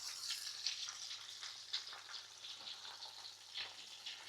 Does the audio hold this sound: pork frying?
yes